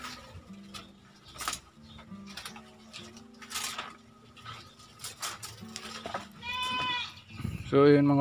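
Goats on a small farm bleat several times, with a long wavering bleat near the end, amid light ticking and shuffling noises and intermittent talking.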